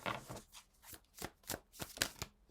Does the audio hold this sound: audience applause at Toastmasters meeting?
no